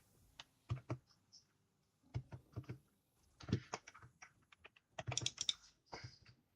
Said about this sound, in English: I just got a new keyboard, so this one feels a little different than my one that I'm used to.